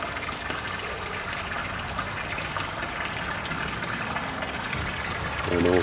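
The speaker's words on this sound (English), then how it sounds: "Okay, slowly filling up. Now I'm using the water from the water tank." Water from a water tank pours steadily into a pool being filled, a constant loud gushing rush that runs unbroken throughout with no voices.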